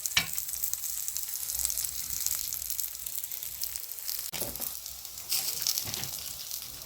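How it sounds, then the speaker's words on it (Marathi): Spinach tikki frying crisp in a pan, a steady bright sizzle with occasional pops and a clatter of the pan partway through. "बघा आपली पालकाची टिक्की छान झालेली आहे, भाजून खरपूस भाजली गेलेली आहे"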